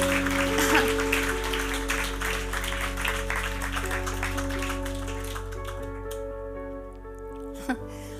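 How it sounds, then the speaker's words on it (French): A church congregation claps at the close of a worship service, a busy patter of hands over a sustained organ-like hum and held tones, thinning out toward the end. "je propose qu'on applaudisse"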